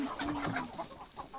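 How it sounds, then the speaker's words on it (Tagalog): Native chickens clucking close by in a short burst of clucks and low throaty calls, faint overall with no voices over them. "Ayan, mga manok."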